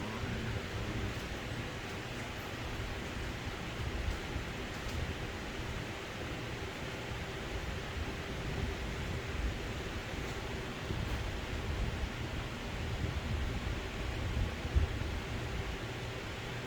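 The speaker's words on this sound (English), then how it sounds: "I don't know how that wind is sounding." Steady broadband wind blows outdoors at a private home at night, a continuous rushing roar with gentle swells and no voices.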